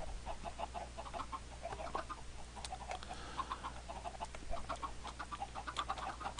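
Chickens on an automated chicken farm in a video game cluck in steady, overlapping bursts over a constant low mechanical hum, moderately loud with no talking.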